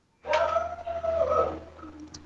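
A single dog gives one drawn-out, whining howl-like bark lasting about a second, fairly near and clear over a low background hum, with no talk.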